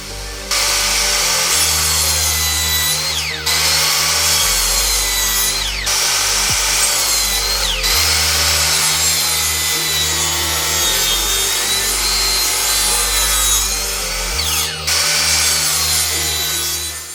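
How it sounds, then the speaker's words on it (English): A miter saw cuts poplar boards for shelves, roaring loudly and continuously with a high whining bite through the wood and brief dips between passes, up close and alone without any talking. "we're going to get these over to the miter saw and get them cut down to size"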